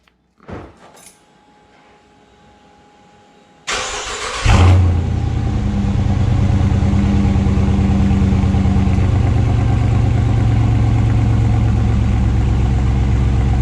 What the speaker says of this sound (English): So now let's start up the car and go for a test drive. First startup.